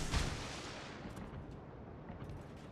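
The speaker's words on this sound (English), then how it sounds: "We're just gonna launch torpedoes at random." A warship launches torpedoes in the naval combat game World of Warships: a sharp, heavy boom at the start fades into a long, rumbling wash of low noise, with no talk.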